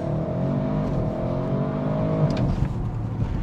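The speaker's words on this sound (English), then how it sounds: "Do one more launch control." A 2021 Audi RS 6 Avant in RS2 mode on a launch-control start, its engine roaring loud and steady with a rising rev and rumbling exhaust throughout, heard from inside the car.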